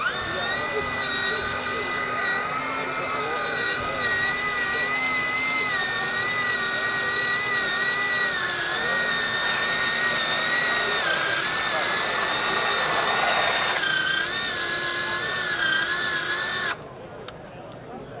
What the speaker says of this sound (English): So I can start my thread.